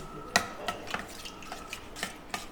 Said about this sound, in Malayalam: ഇനി നമുക്ക് നന്നായിട്ടൊന്ന് മിക്സ് ചെയ്ത് കൊടുക്കാം.